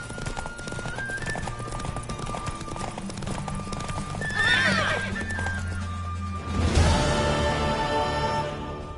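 Hooves clip-clop in a quick gallop while a horse neighs twice in The Witcher 3: Wild Hunt, with a busy background of game music and effects.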